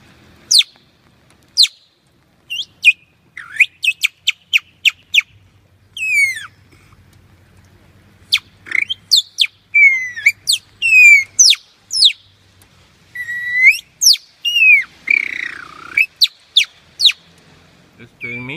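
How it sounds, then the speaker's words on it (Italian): A palate whistle blown again and again at gulls in Trieste, making sharp, high chirping and warbling bursts in quick runs, with a faint low hum in the background. "Effetto del fischietto palato sui gabbiani triestini."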